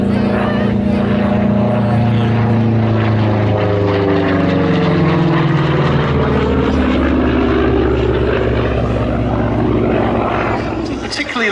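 A P-47D Thunderbolt single-engined piston fighter flies past at the Duxford air show. Its loud, continuous propeller drone shifts in pitch as it passes, and a commentator talks over it throughout.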